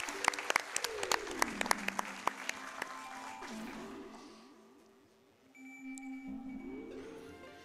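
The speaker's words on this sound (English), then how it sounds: "if I can get a round of applause for Xandergoth" Scattered clapping from a speedrun event audience, loud at first then thinning out, mixed with a revving engine whine that rises and falls in the background.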